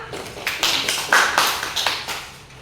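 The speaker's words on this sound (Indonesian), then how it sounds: "Tepuk tangan untuk Rosa" A classroom of students clapping for a classmate after a biology lesson answer, a few uneven, close bursts of hand claps rising and falling over a couple of seconds.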